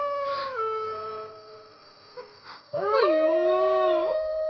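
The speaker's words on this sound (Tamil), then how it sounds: "நாய் வேற ஓல விடுது" A dog howls in two long, wavering, rising and falling cries close by, with a short yelp and a brief exclamation from a person between them.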